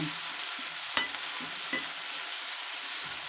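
Finely chopped onions sizzle in a pan for an aloo gobi sabzi, a steady soft frying hiss with a couple of brief stirring clicks and scrapes, close and alone without talk.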